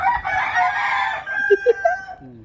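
A rooster crows loudly and up close, followed by several short clucks from chickens at the end.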